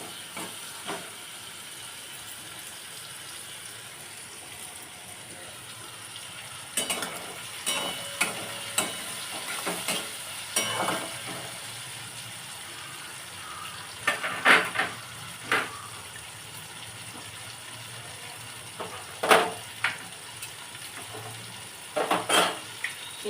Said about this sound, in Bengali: একটু ভেজে নাও।